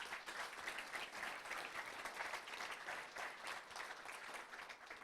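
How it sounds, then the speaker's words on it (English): A round of applause from the audience at a 1 Million Cups Wichita entrepreneur presentation, heard quietly and at a distance as an even, sustained patter of many hands. "Let's give him a round of applause."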